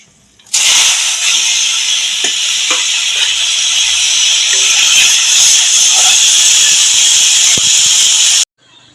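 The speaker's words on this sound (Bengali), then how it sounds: "পেঁয়াজগুলো লাল লাল করে ভাজা হয়ে গেছে" A loud, steady sizzle of sliced onions and garlic frying in hot oil that starts abruptly, holds evenly for about eight seconds with faint crackles, then cuts off.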